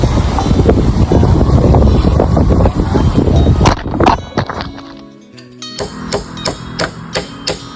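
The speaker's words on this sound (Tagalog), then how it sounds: "tapos ay bigla naman ditong lumakas ang hangin." Strong wind gusts roar steadily around a wooden tree house for about four seconds, then die down, leaving a quieter stretch broken by a few sharp knocks.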